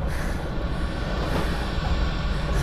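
Inside a moving train, a steady rumble of wheels and carriage noise rolls on evenly throughout, with no voices or distinct clacks standing out.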